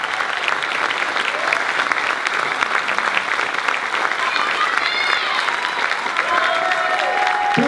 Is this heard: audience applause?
yes